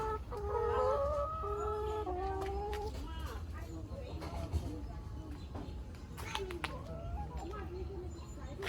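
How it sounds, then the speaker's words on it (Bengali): A chicken clucks nearby after wandering indoors, with a run of clucks early on and then quieter rustling while voices talk in the background. "মুরগি ঢুকে গেছে, এতক্ষণ বাইরে ছিল।"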